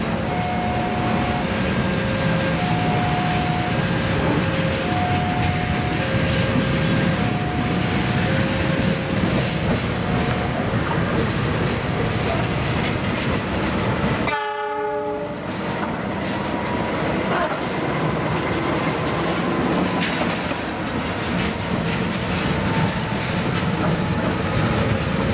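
Locomotives run along the rails with a continuous heavy rumble and a clattering rhythm. Intermittent tonal blasts come early, then a brief break midway before the rolling noise resumes close by.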